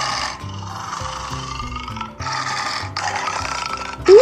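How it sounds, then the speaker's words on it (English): A lion roars in a series of loud, rough bursts with short breaks between them, heard alone with no talk over it. "Roaring of lion."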